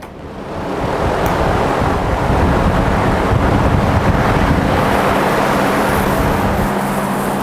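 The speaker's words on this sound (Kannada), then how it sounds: "ಈಗ ಆನ್ ಮಾಡಿ ತೋರಿಸಿ ನಿಮಗೆ ಯಾವ ಥರ ಬರುತ್ತೆ ಗಾಳಿ ಅಂತ ಹೇಳಿ" A household air cooler starts up, and its fan builds within a second into a loud, steady rush of blowing air close to the microphone that holds unbroken to the end without any voices.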